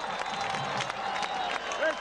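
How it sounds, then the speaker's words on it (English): Football crowd at a 2011 Richardson vs Pearce game, on their feet and roaring as the ball sits at the one-yard line; dense, steady cheering and clapping fills the whole stretch without a break. "Crowd is on their feet."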